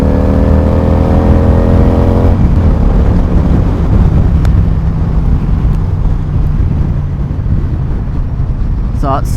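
A Yamaha XVS 1100 V-Star motorcycle's V-twin engine revs under throttle, a loud steady roar that drops from a rising tone into dense rumbling engine and wind noise while riding.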